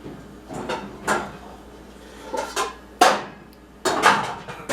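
Metal pots and pans clatter and clank in a home kitchen, a series of sharp knocks and scrapes spaced irregularly over several seconds, close and moderately loud with no voices.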